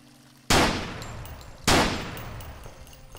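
Two loud gunshots go off in a zombie horror game, each a sharp crack that rings out and slowly fades, roughly a second apart.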